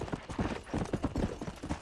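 A horse trots along in the Red Dead Redemption game, hooves clip-clopping in a quick, regular rhythm, close but fairly soft.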